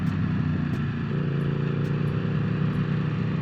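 A big Triumph motorcycle is ridden through a turn, its engine droning steadily and close with a low, even rumble and no break in the sound.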